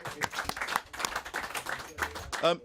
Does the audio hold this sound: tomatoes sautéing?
no